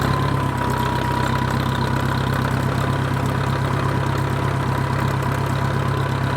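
A vehicle engine idles steadily after a cold start on a jump pack, a continuous low, even rumble with a faint whine, close by and with no talking.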